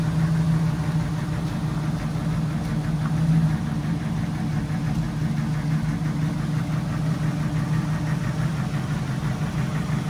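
Jeep Wrangler YJ engine idling steadily after a throttle position sensor fix, a continuous low rumble with a firm, even tone that holds without dipping, close to the microphone and with no voices.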